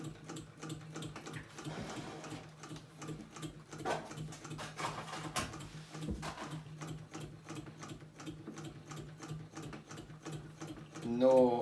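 A vintage sewing machine stitches through four layers of upholstery leather, a steady rapid mechanical ticking and whirring that runs throughout at close range, with a brief louder burst near the end.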